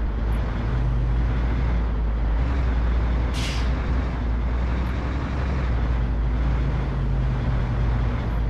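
A truck driving in Euro Truck Simulator, a steady low engine rumble and road drone running throughout, with a short hiss near the middle.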